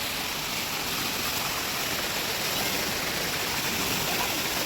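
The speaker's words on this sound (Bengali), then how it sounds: "এই হচ্ছে ঝর্ণা, এই ওপর থেকে পড়ছে জল।" A steady, full roar of a waterfall pours down continuously, loud and close, with no voices or breaks in the rushing sound, on a mountain trip in Sikkim.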